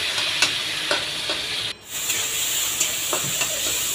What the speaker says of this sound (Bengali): তারপর দিয়ে দিচ্ছি চিংড়ি মাছগুলো।